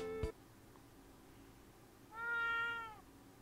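A cartoon cat meows once in a short, clear, tonal call within an animated scene, heard alone after a brief sharp sound at the start.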